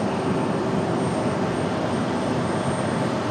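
A jet airliner departs or arrives at Raleigh-Durham International Airport, its engines a loud, steady broadband roar with a faint high whine, heard alone and continuously throughout.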